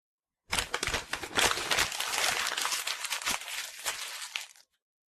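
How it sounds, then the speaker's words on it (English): Paper worksheets being crumpled up by hand in a quiet detention room, a continuous dense crinkling and crunching that runs for about four seconds, close and fairly loud, with no talking over it. "why are you crumpling up your worksheets?"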